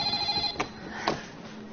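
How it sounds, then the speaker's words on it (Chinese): A telephone rings in a short, faint electronic trill early on, with soft clatter and background noise in an animated comedy scene. "肯定又是婷的来电话了"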